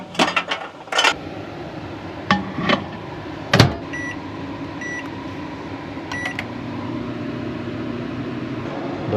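A microwave oven heating tortillas inside a van: a few knocks and clatters as it is loaded, button beeps, then a steady running hum that continues to the end.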